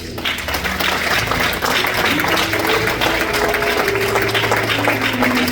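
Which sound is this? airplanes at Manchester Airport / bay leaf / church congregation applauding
church congregation applauding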